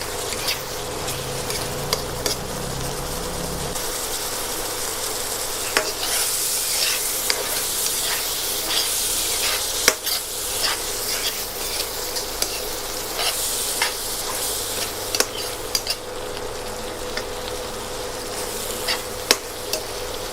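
Puffball mushrooms and egg stir-fry in oil, a loud, continuous sizzle broken by frequent sharp scrapes and clacks of a spatula against the pan, with no voices.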